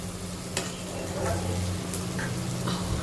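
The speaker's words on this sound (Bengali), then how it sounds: "তো এটা একটু ভাজা ভাজা হোক" Food sizzles steadily in a hot pan while it is being stirred, a constant close frying hiss with a few brief scraping clicks.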